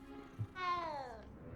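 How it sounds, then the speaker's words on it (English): A leopard cat in the video game Hogwarts Legacy gives a single short, faint meow that rises and then falls in pitch, heard alone after a brief soft thump. "Hello, kitty kitty. Nice kitty kitty. Leopard kitty kitty."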